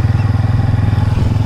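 Motorcycles ride along a street at night on a hot, still evening, a steady low engine drone with rhythmic pulsing throughout, fairly close and loud, with no speech.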